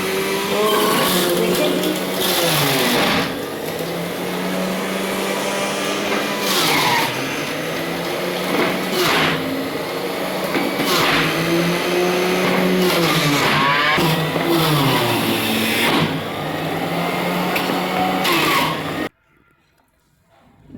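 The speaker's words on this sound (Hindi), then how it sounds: "सबसे पहले मैं चलाऊँगी जूसर को" Electric juicer motor running loud and steady for about nineteen seconds, a continuous droning whir with pitch wobbling as the load shifts, then cutting off abruptly into near silence; someone speaks briefly over it.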